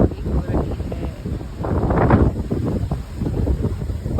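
Strong gusty wind roaring across an open mountain valley near a waterfall on a rainy, cloudy day, loud and continuous with rising and falling surges that buffet the microphone.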